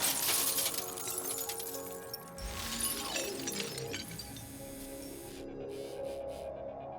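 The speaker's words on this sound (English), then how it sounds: "For this test, the robot has been fitted with a small ramrod designed to break through glass." A robot's small ramrod punches through a car window, a sharp glass shatter followed by tinkling fragments and mechanical whirring that fades into quieter clinks near the end.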